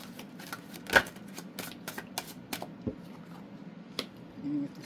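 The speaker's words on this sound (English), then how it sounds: "it's going to take me just a moment to do a little shuffling here and lay out our" Large tarot cards shuffled by hand at close range, a quiet soft riffle of brief papery flicks and taps with one sharper snap near the start, against a faint low room hum.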